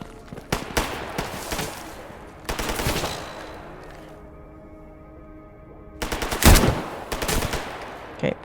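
Automatic gunfire in Stalker GAMMA, loud bursts of rapid shots in two clusters with a quieter stretch of ambient drone between them.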